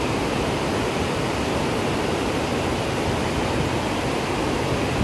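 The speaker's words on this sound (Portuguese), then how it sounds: "Muita água descendo, né, pessoal?" Water rushing down the spillway of the Zabumbão dam in the afternoon, a loud, steady broadband roar that never lets up, close by with no voices.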